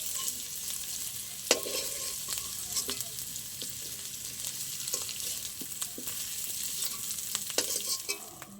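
Boiled potatoes frying in hot oil for a vegetarian yam curry: a constant soft sizzle, close and fairly quiet, with occasional sharp clicks of a utensil against the pan and no voices.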